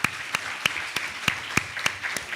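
Audience applause at a ceremony comes through as a sparse run of distinct, evenly paced claps, fairly faint, with no one speaking.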